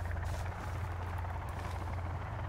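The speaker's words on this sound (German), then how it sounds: "Und der Hubschrauber mal wieder." A helicopter flies overhead in the video game Sons of the Forest, its low rotor drone steady and fairly loud throughout with no speech.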